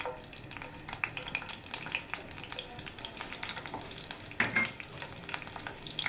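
Finely chopped garlic sizzles steadily in a generous amount of cooking oil over a low flame, a tempering for masoor daal, with a brief louder crackling burst partway through and no talking.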